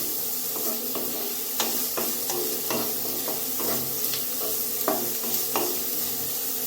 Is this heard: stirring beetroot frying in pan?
yes